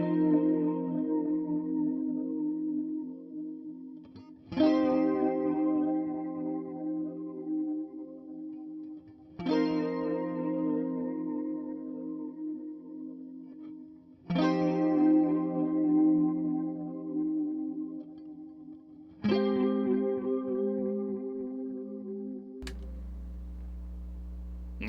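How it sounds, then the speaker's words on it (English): Guitar chords strummed and left ringing, about five times at steady intervals, with a swirling, sweeping MXR phaser modulation on each sustained chord. "we can add a little bit of phaser"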